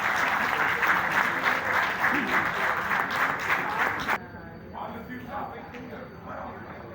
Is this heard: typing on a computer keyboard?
no